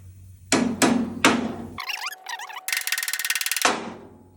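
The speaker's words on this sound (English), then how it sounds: "Let's just lightly tap it." Rocker panel on a 1969 Camaro being tapped into place for welding: three sharp metallic taps, then a ratcheting, rapid rattling burst, close and loud with no voices.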